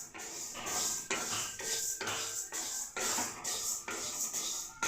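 Black gram (urad dal) roasting in a pan for sunnundalu is stirred steadily, producing rhythmic scraping and rattling strokes about once per half second, close and fairly quiet, with no voice.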